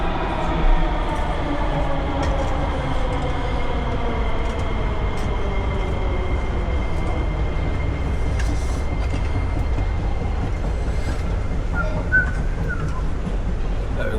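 A metro train in Sofia, Bulgaria rumbles steadily nearby, a continuous loud low roar with rising and falling tonal whine from the motors, carrying on for the whole stretch with faint clatter.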